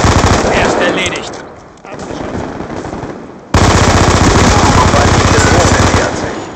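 Rapid automatic gunfire in Call of Duty Black Ops 2 multiplayer on Xbox 360, loud sustained machine-gun bursts with a short gap, then a heavier continuous stream of shots.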